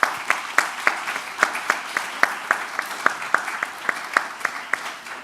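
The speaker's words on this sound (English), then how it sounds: "if we could get one big round of applause for all of them, please" A small audience at a talk on voice technology claps, with individual claps clearly separable in a steady, moderately paced rhythm at a modest level.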